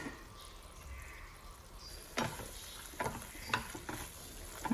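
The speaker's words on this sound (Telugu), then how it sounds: "మంచిగా కలుపుకుంటున్నాను." Okra and tomato curry simmering in a pan is stirred with a spoon, producing a few soft scraping strokes over a faint, steady bubbling sizzle.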